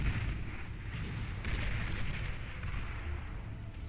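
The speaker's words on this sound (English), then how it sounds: "we see Levish send all of his fighters into the base of Israel and get instantly shot down." In a Beyond All Reason strategy game battle, fighters are shot down over an enemy base, giving a dense rumble of explosions and gunfire bursts that rise and fall continuously, with no voices.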